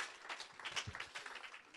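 An audience applauds Samuel, a brief, faint patter of many hands clapping together at some distance.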